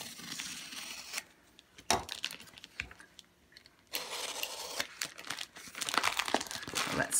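Paper crinkles and rustles in bursts as a package is handled and opened, with crisp crackling pauses and a few louder tearing rustles, close by.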